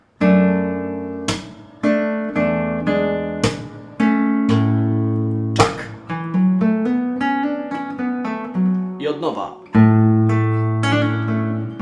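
Acoustic guitar playing the closing phrase of a song intro: plucked notes and strummed chords with ringing bass, steady rhythm, close and clear with no talking.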